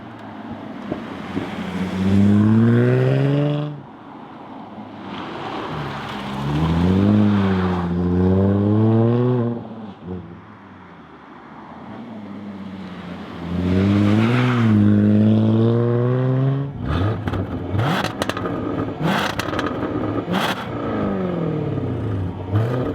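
A 2017 Jaguar F-Type V6 convertible roadster being driven, its engine pulling up through the revs in three loud, rising surges with dips between, then settling into a rough, crackling, clattering burble.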